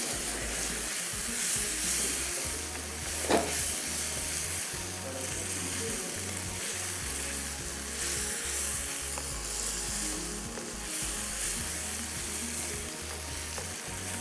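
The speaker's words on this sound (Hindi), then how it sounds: "अच्छे से फ्राई करना है, इतना फ्राई करना है कि वेजिटेबल्स के ऊपर एक क्रस्ट आ जाए," Vegetables frying in a pan give a steady, bright sizzle, with stirring scrapes and clinks breaking through now and then. The sound stays close and even the whole time, with no talking.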